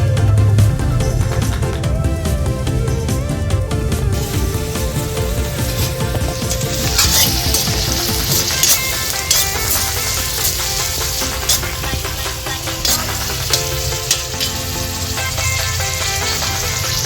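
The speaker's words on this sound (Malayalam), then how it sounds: "ഇത് നമുക്ക് ചീനച്ചട്ടിയിൽ എണ്ണയിലിട്ട് മുരിച്ചെടുക്കാം." Onion and curry leaves fry in hot oil in a pan, a steady dense sizzle running throughout with occasional stirring scrapes, fairly loud and without talk.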